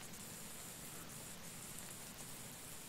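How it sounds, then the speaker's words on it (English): Steady, dense rain pattering as an even wash of noise with faint droplet ticks, a continuous ambient rain track with no voices. "I hope you guys can hear the rain sound there."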